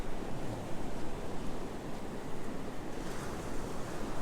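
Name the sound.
ocean waves on a beach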